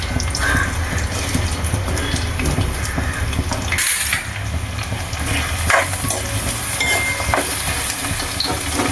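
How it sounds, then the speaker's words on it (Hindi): Green chilies, curry leaves and onion spit and sizzle in hot oil in a pan, a dense steady hiss close up with scattered crackles and occasional stirring scrapes, and no talk. "सबसे पहले हम इसमें डालेंगे हरी मिर्च, कड़ी पत्ता और साथ में प्याज।"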